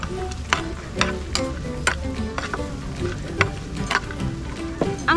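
Meat, vegetables and mushrooms frying in a pan for pansit, a close, continuous sizzle with frequent clicking taps and scrapes of stirring.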